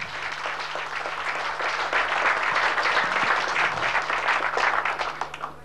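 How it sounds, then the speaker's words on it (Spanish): Sustained applause from an indoor crowd honoring teachers at the inauguration of the Casa del Petrolero, a dense steady clatter of many hands that swells slightly and lasts throughout. "Voy a pedir un aplauso para estos profesionales o profesores."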